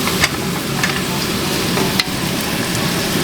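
Dried chilies and peanuts stir-fried in a hot wok for a home-style kung pao stinky tofu dish, a steady loud sizzle with a few sharp scraping clicks of the spatula, no voices.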